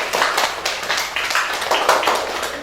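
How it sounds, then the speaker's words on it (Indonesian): Classroom clapping from primary-school pupils in an Islamic religious education lesson, applauding a group; a short burst of scattered, uneven claps from a nearby small crowd, with no talking. "Tepuk tangan semuanya untuk kelompok."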